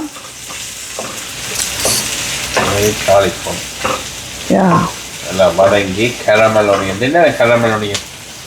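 Onions fry in a pan with a steady sizzle and occasional stirring, while a voice talks over the cooking throughout.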